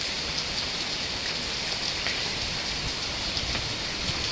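Torrential rain hammers down without pause, a thick even wash of hiss and drops spattering on nearby surfaces, loud and continuous with no voices.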